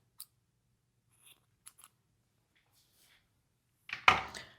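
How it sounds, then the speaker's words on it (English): Scissors snipping through crochet yarn in a quiet room: a few faint, sparse clicks, then one sharp, close cut near the end. "I'm going to cut my yarn, but I'm leaving a nice long yarn tail"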